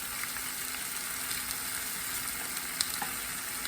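Oiled griddle sizzling steadily under Cuban sandwich bun slices, a constant close crackle with a few small pops and no talk.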